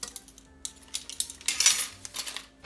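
A metal spoon clinks and scrapes against a container while a half teaspoon of unflavored gelatin is measured, several quick light taps close up, with no talking.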